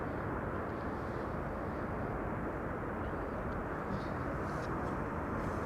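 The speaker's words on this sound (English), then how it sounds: "Croatia Airlines arriving from Zagreb" A Croatia Airlines airliner from Zagreb arrives at Amsterdam Schiphol, its engines a continuous broad roar at moderate distance, with faint bird calls over it and no talking.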